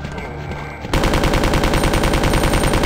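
Rapid automatic gunfire in the video game Resident Evil 2 bursts in abruptly and hammers on loud and continuous in a fast, even rhythm, with quieter game sounds just before it.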